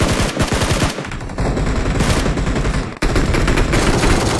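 Rapid automatic gunfire from PUBG Mobile, loud and dense, with bursts of firing broken by a brief pause around the middle and a sharp cut before a fresh stream of shots.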